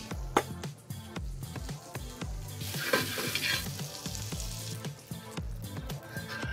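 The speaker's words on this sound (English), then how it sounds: "just kind of drop them in there and get them nice and sort of charred" Pea tendrils charring in a hot pan beside blackened salmon make a steady crackling sizzle with repeated stirring and tossing knocks, a louder hiss swelling midway, no talk over it.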